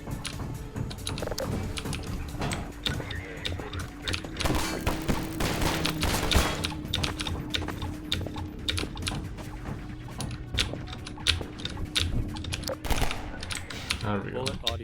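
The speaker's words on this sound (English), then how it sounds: "Bullets will fly past a player throughout the game" Rapid bursts of gunfire and bullets whizzing past crackle continuously in Half-Life 2, dense and loud for the whole stretch, with occasional faint talk underneath.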